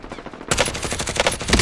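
Loud automatic gunfire in Call of Duty Warzone Plunder mode, a dense rapid burst bursting in after a quieter half-second and rattling on steadily to the end.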